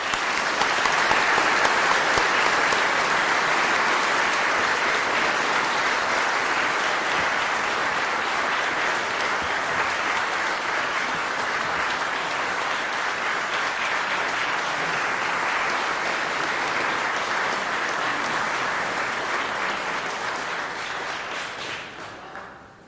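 Sustained audience applause at a civic association annual meeting honoring a new lifetime honorary chairman, a loud, dense wash of clapping from a large room holding steady for about twenty seconds before tapering off, with no talk over it.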